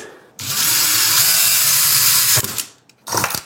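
A power drill whines loudly at high speed for about two seconds, then stops, followed by a few shorter bursts as the bit works through the material.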